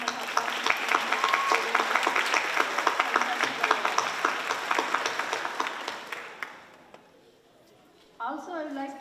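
A crowd claps in sustained applause after a Kuchipudi dance performance, gradually fading out, followed briefly by a person starting to speak.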